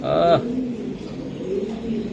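A racing pigeon gives one short, throaty coo at the start, close and fairly loud, then only quiet room noise and a low background hum follow.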